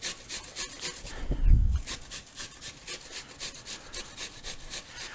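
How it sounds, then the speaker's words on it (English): A Vidalia onion rasped against a kitchen grater in quick, regular strokes, close and fairly quiet, with a single dull thump early on. "I am going to grate it."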